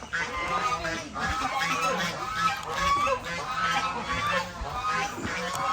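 Birds at a bird park give repeated honking, goose-like calls in a steady rhythmic series, loud and fairly close, with a voice faintly mixed in.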